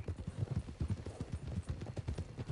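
Horse hooves clip-clop steadily in a Wild West video game, several horses walking together at a brisk, even rhythm with fairly close, moderate loudness and no one talking.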